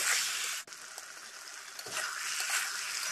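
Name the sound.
spice paste (onion, garlic, cumin, ginger) being sautéed in pan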